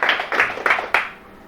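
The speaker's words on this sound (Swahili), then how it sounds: "sijipigie makofi kidogo" Four crisp hand claps, close and evenly spaced, with a little room echo trailing after the last one.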